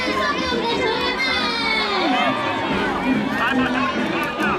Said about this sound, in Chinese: 尖叫加掌声送给我们的球员们